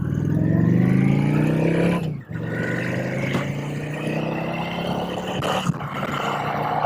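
A 2010 Honda Shadow 750 RS motorcycle cruises on a highway, its engine droning steadily with a shift in pitch midway, mixed with strong rushing wind noise up close.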